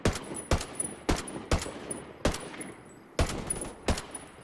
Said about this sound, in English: They're shooting over there.